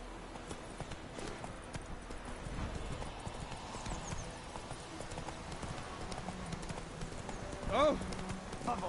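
Roach, a horse in The Witcher 3, clopping along with steady hoofbeats under game ambience and a voice, ending in a brief whinny-like swell near the end.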